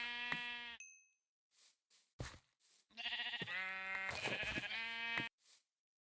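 Sheep in the Minecraft game bleating several times, a clear close bleat, then brief gaps with short sounds, and a longer run of loud overlapping bleats before it stops.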